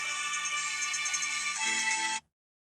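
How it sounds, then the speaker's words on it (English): A phone unexpectedly plays a short Final Fantasy VI music track, a bright, tonal ringtone-like melody heard close and clear for about two seconds before cutting off abruptly into silence. "So my phone just randomly played a track from Final Fantasy VI"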